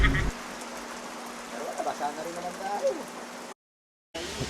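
Steady rain falls and patters on surfaces in a continuous, close wash of sound, with a voice faintly underneath, before it cuts out briefly near the end.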